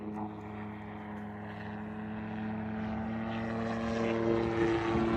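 A helicopter flies by overhead, its steady droning rotor and engine hum holding loud and even throughout with no talking.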